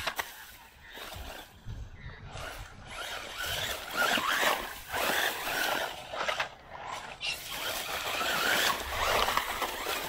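A WLToys 124016 brushless RC car driving over off-road terrain, its small motor giving a raspy, buzzing whir that surges and fades in repeated bursts, with gravelly crunching, heard close.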